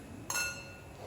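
Wine glasses clink once in a toast during paella cooking, a single bright ringing chime that fades quickly against quiet background.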